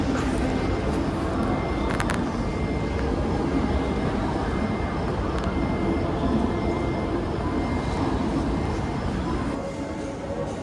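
Loud, steady roar of airplane engines at an airport, a continuous broadband rumble filling the whole stretch with no voices.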